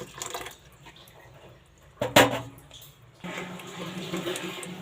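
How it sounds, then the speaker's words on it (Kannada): Rinse water from a mixer jar is tipped into a pan of tarli and bangade fish sambar. There are soft splashes, a sharp clank midway, then a continuous trickling pour. "ಜಾರ್ ತೊಳೆದು ನೀರೇ ಹಾಕ್ತಾ ಇದ್ದೀನಿ"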